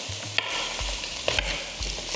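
Food caramelizes in a saucepan during sauce making, giving a steady sizzle with several scraping stirs of a utensil against the pan bottom at an irregular rhythm, close and moderately loud with no voices.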